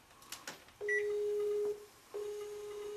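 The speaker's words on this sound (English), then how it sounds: "It's ringing." Ringback tone on an outgoing phone call: two long steady electronic tones separated by a short pause, with a brief higher beep and faint clicks before the first, clear and close.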